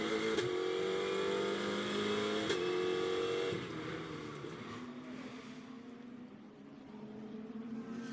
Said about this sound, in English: riding on board with the Mercedes now